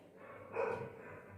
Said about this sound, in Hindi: इस कुत्ते को भी आज ही भौंकना है क्या